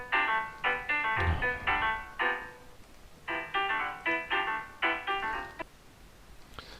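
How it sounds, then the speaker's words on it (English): A phone ringtone plays as a melodic electronic tune in two bursts of repeated rising note groups, clear and fairly close, separated by a short pause, with faint room noise underneath. "Phone rang."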